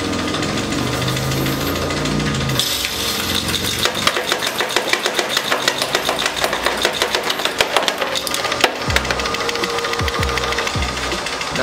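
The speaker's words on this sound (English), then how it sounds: "So I'm gonna put a few in to the machine, and they should all go into that blue bin right there." A coin sorting machine runs as copper pennies are fed in, giving a loud mechanical whirring and rattling with rapid repeated clacks and knocks that continue steadily throughout.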